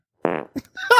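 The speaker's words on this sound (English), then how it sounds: "Those are vegan farts, dude." A short, close, loud fart, a single buzzing burst, followed by brief sounds of laughter and a voice.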